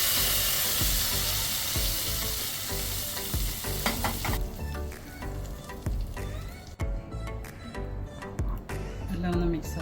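A hot tempering of fenugreek, dried red chillies and curry leaves hits Onam-style kurukk kalan with a loud, close burst of sizzling. The sizzle then settles into a softer crackle with stirring clatter.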